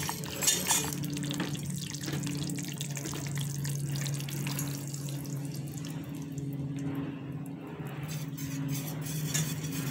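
Milk is poured into lasagna sauce in a pan, a steady, close liquid stream that runs for about ten seconds without a break.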